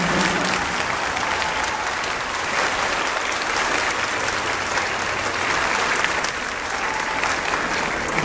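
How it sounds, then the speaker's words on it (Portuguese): A church congregation at a festive Mass applauds, sustained dense clapping from many hands filling the space without a break. "uma salva de palmas para aqueles que trabalharam na relação social com a nossa"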